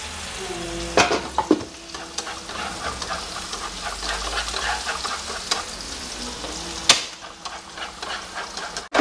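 Vegetarian beef being stir-fried with minced garlic in a hot pan, a steady close sizzle broken by several sharp clanks and scrapes of a utensil stirring against the pan.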